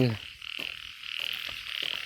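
Frogs croak at night by a Thai rice-field or pond during a nighttime frog hunt: close, repeated rasping croaks in a quick rhythm, several calls in a row over faint background insects.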